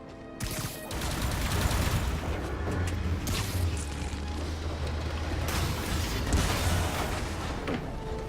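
Heavy cannon fire from an armed vehicle in Marvel's Spider-Man, a continuous rumbling barrage of booms and blasts with a steady low drone running through the whole stretch.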